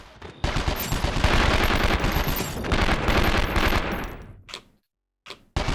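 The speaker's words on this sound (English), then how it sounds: "They're shooting at me!" Sustained machine-gun fire in the video game 24: The Game, a loud close barrage running several seconds before tapering off into silence, then a couple of short bursts at the end.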